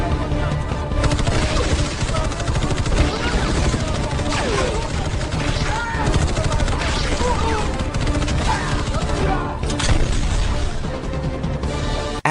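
A gunfire shootout in a movie scene between mercenaries and pirates aboard a ship, with bursts of rapid shots, crashes and impacts filling the stretch at close, loud range, and voices shouting over it in places.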